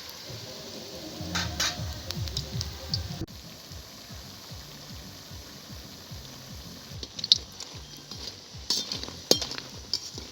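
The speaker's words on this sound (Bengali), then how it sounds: "পকোড়াগুলো এরকম উল্টে পাল্টে আমি লাল লাল করে ভেজে নেব" Coriander-leaf pakoras frying in hot oil on a winter afternoon, a steady close crackling sizzle with occasional sharp clinks of a utensil turning them, no one speaking.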